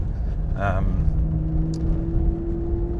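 Maserati GranTurismo Sport sports car engine rumbling steadily from inside the cabin while driving, with a brief rising rev near the start and a sustained low drone throughout.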